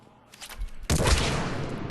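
A Disciple shotgun fired from the hip at very short range in Mass Effect 3: a soft lead-in, then one loud, close blast with a long rumbling tail.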